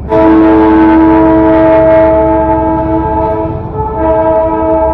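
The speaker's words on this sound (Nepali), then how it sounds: "आज स्टिम इन्जिन चाहिँ होइन रहेछ यो एकदमै यो चाहिँ डिजल इन्जिनको रहेछ" A diesel-engine train hauling three coaches rolls past close by near Rishihat, a loud steady rumble with sustained horn tones sounding over the rail noise throughout.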